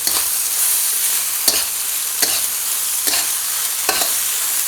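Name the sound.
fried pork mixed and sizzling in a pan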